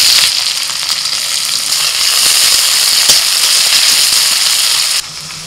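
Chopped onion drops into hot mustard oil in a wok and fries with a loud, dense, continuous sizzle and crackle close by, easing slightly near the end.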